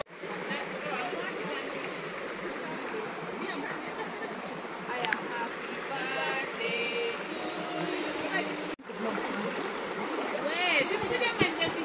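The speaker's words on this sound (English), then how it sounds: "show you the birthday plus the water that is flowing down" A stream flows steadily down a nature trail picnic and camping site, a continuous broadband rush of running water that stays fairly loud throughout, with voices and children's chatter mixed in over the flow.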